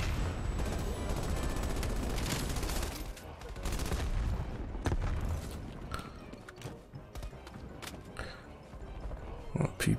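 PPSh submachine gun bursts from Call of Duty Warzone, dense rapid automatic fire up close, loud and continuous early then broken into shorter bursts amid game sounds and a talking voice.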